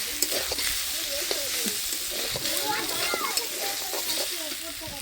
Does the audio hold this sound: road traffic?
no